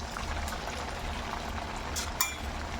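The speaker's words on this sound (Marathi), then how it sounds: "आता शेवटची बॅच मी ही सगळी तळून घेते" Potato puris for a fasting meal deep-frying in shallow oil, giving a steady, close bubbling sizzle with a brief louder crackle near the end and no talk.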